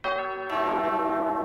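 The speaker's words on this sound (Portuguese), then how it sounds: "toca o sino sacristão." A church bell rung by a sacristan gives a loud, ringing strike that swells into a second overlapping toll, leaving a rich, sustained metallic hum.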